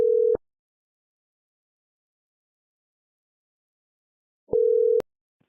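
Two steady telephone tones, each under half a second, sound at the start and again near the end of a call being placed to a number, with near silence between them.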